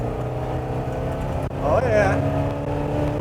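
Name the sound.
1965 GMC step-side truck accelerating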